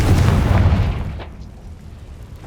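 A Confringo fire spell bursts in Hogwarts Legacy, a loud low boom at the start that rumbles and fades over a couple of seconds, with a faint crackling tail.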